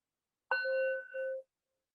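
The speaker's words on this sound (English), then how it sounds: "Listening to the bell fade out." A single meditation bell is struck once in a quiet yoga session, ringing clear and bright before fading out over about a second, alone with no talking.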